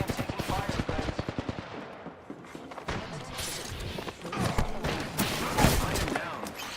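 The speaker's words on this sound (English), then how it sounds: "The second squad is firing at us." Rapid automatic gunfire from an Overwatch match, a dense burst of evenly spaced shots early on, followed by busier combat noise and scattered hits, with voices speaking over it.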